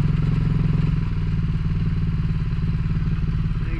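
A Suzuki DR350 motorcycle engine idles with the choke pushed fully in, giving a loud, close, steady rapid thumping with mechanical clatter.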